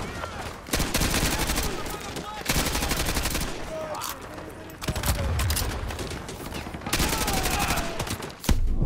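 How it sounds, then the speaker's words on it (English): Rapid bursts of SCAR rifle fire in Modern Warfare 2 Remastered, loud and near, several sustained volleys with brief gaps between them and no talk over the shots. "The actual sound of the scar actually sounds pretty good."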